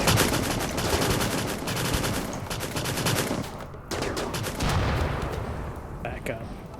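Rapid gunfire from a RimWorld colony battle, with repeated sharp shots and bursts crackling continuously over ambient game sound for the whole stretch.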